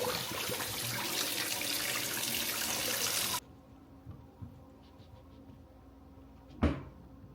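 Tap water runs hard into a kitchen sink as items are washed, a loud steady rush that stops abruptly, followed by quiet handling clatter and a single sharp knock.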